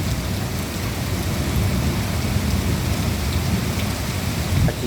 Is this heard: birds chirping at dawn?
no